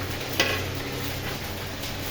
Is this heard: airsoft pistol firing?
no